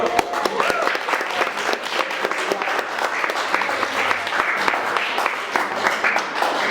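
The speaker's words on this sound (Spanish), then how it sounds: "Así que un aplauso para Flor" An audience applauds loudly and continuously, many hands clapping in a dense, sustained burst from start to finish.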